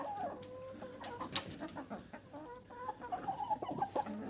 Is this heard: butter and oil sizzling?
no